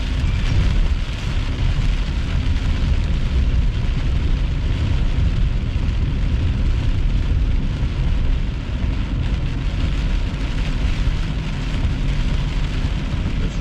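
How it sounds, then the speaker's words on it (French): Heavy rain pours steadily during a summer thunderstorm in Longueuil, a dense, loud, unbroken hiss of drops hitting surfaces that fills the whole stretch, with no talking. "en ce moment, c'est pas mal de la pluie plus forte"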